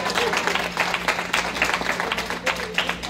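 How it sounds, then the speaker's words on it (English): An audience claps steadily, a dense patter of many hands applauding at moderate volume. "round of applause"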